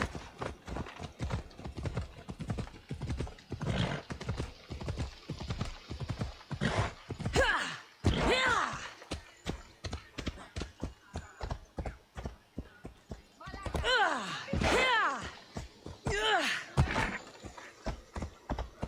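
A horse gallops in the video game Assassin's Creed Odyssey, rapid rhythmic hoofbeats clopping steadily throughout, broken by two loud whinnying neighs midway and near the end.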